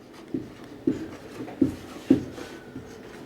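Marker or chalk scratching across a board during a chemistry lesson on the acidic strength of carboxylic acids, four short strokes at a steady, unhurried pace, close and fairly quiet with no talk.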